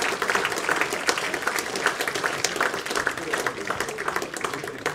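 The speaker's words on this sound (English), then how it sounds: "let's give the Co-op Funeralcare a big round of applause for all the help they do" An audience at the Co-op Funeralcare International Open bowls final claps in a steady, dense round of applause that lasts throughout, with no pauses.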